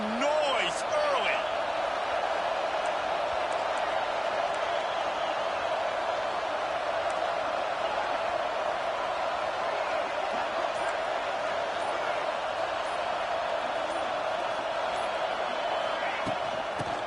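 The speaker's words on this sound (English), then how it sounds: "This crowd bringing the energy and noise early." College football stadium crowd, a constant loud roar of a large audience with no letup, faint thuds and a commentator's voice over it.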